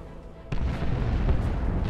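Explosives detonating in the strategy game Dawn of War II, breaking from a quiet hum into a sudden loud blast that rolls on as a heavy, rumbling boom with scattered secondary pops.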